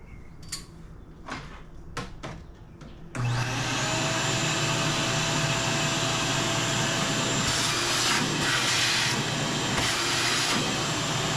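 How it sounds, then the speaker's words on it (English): A wet/dry shop vacuum runs while cleaning out a car's cabin air intake screen. A few light knocks and clicks come first, then the motor switches on into a loud, steady, close-up whine and roar that holds to the end. "Wet dry vac. Comes in handy sometimes."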